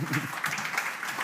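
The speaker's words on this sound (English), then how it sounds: "And give them a round of applause." Brief audience applause for a panel at a FHIR DevDays 2025 conference session on national FHIR core profiles, a short burst of clapping heard alongside a voice.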